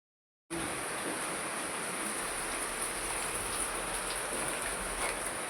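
Rain falls outside as a steady, even hiss that starts abruptly and continues at low level, with a faint high insect-like whine above it and no speech.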